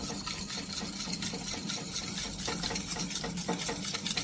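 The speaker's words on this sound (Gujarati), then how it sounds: "તેને પણ આપણે આ રીતે સરસ મિક્સ કરી દઈશું." Warm mango pulp being stirred into a milk mixture for mango coconut ice cream, a steady close scraping and sloshing of a spoon in a pot, with no voices.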